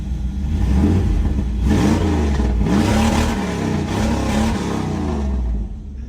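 A 2004 Ford Thunderbird engine running after starting and being revved, with several loud rising and falling roars up close, then settling toward idle near the end.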